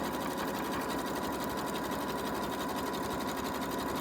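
A sewing machine stitches appliqué onto fabric for a pencil case, its fast, even motor whir and needle chatter running loud and unbroken from start to finish.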